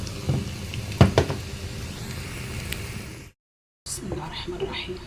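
Garlic and coriander sizzle in hot ghee for a molokhia and kishk dish, giving a soft, hissing fry with a few sharp crackles and clinks. A brief gap of silence comes partway through.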